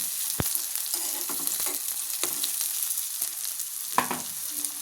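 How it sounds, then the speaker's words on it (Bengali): Onions frying in a pan of hot oil give a steady, close sizzle with a few sharp ticks and stirring scrapes, and no one speaks. "তো পেঁয়াজ দিয়ে দিলাম, পেঁয়াজটা একটু বাদামি কালার হয়ে আসলেই অন্যান্য মশলাগুলো দিব।"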